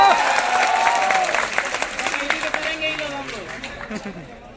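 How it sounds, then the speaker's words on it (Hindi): A crowd at a large coaching-class meet-up in Prayagraj gives loud, dense applause that slowly thins out, while a voice carries on over the clapping. "जोरदार ताली हो जाए प्रयागराज के लिए"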